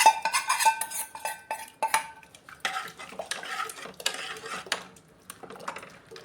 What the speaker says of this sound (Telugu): ఇప్పుడు ఇందులోకి పోపు వేసేసుకుందాం.